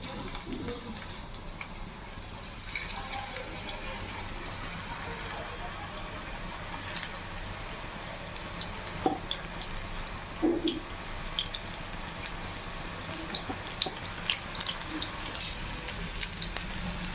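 Soya chunk (meal maker) pakodi frying in a pan of hot oil, a steady close broadband sizzle dotted with small popping crackles that grow busier toward the end, with no talk.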